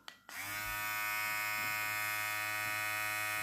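Limural LM 7256 hair clipper switching on after a click, then a steady high-pitched motor buzz with a strong hum, running alone and close.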